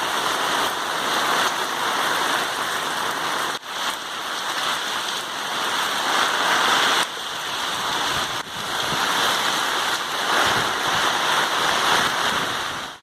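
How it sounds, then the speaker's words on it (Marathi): Heavy rain driven by strong winds in Mapusa, Goa, a dense continuous roar of downpour with gusty surging and no voices. "वादळी वाऱ्या सयत उटंगराच्या पावसान म्हापशेकारांक शेपलावन काडले."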